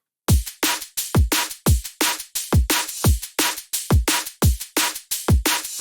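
Drum and bass drum loop with hard kicks, snappy snares and crisp hi-hats layered with a top loop, a fast, punchy, evenly repeating beat played loud and alone.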